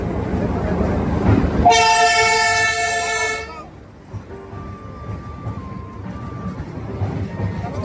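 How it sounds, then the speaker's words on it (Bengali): A train passes at Siliguri, sounding a loud, sustained horn blast for about two seconds over a heavy rumble. The rumble then fades into lighter rolling and clatter, with background voices. "দেখো এখানে ট্রেন যাচ্ছে"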